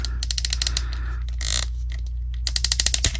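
Stiff joints clicking and creaking as tight hands are swapped on a NECA Ultimate 2012 cartoon Raphael action figure, sharp rapid ratcheting bursts close up with a brief grinding rub in the middle.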